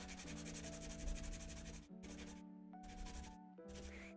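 Hand sanding of a wooden part for a camper build, rhythmic close-up scraping strokes in quick repeated runs with short pauses between them.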